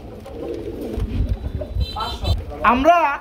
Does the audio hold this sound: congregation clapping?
no